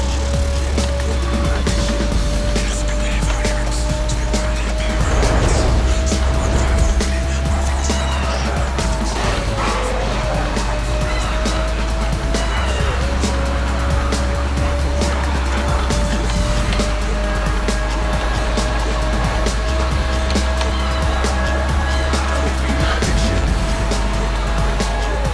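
A race car in the Need for Speed Most Wanted video game driving, its engine droning steadily throughout with pitch shifts, accompanied by continuous game noise.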